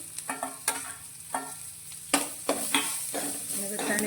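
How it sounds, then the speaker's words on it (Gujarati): Chopped onion, green chillies, ginger and curry leaves sauté in a pan. A steady sizzle runs under repeated clinks and scrapes of a spoon stirring close by, with no talking. "બધાને આપણે સારી રીતે સાંતળવાનું છે। તો આનું આપણે બહુ વધારે પકવવાનું નથી, પણ તેનો ક્રન્ચી ટેસ્ટ રહે ડુંગળીનો તે રીતે તેને સાંતળીશું।"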